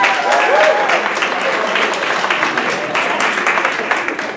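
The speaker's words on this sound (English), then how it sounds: "please give a big round of applause to the organizers and the volunteers who put it together" Audience applause for the organizers and volunteers at a university Muslim Students Association Eid dinner, sustained clapping from a crowd that tapers slightly, with some voices faintly underneath.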